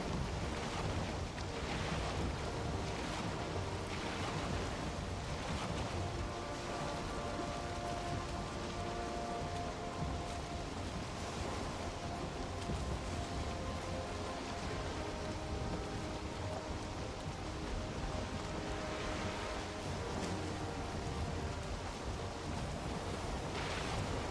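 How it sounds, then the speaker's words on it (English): Rough, gnarly waves in the video game Valheim, a continuous dense wash of surf and spray with wind and a rain-like hiss, steady and loud throughout, no voices. "We got some pretty gnarly waves right now."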